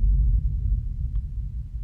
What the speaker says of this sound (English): we have like this really boomy low sound that plays